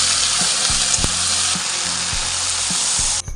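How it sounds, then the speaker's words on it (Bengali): Onions, potatoes and green chillies fry in hot oil with a loud, steady sizzle, broken by regular soft knocks of a spoon stirring the pan, ending abruptly. "তেলের মধ্যে পেঁয়াজ আলু কাঁচা লঙ্কা সব দিয়ে দিয়েছি"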